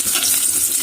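Onion and garlic frying in oil, a brief, close, steady hiss of sizzling with no other sounds.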